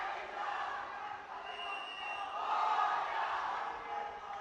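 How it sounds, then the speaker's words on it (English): A large arena crowd cheers for a team at a national university robotics competition, producing a continuous distant roar that swells briefly midway and is heard with no nearby voices. "People cheering at the team."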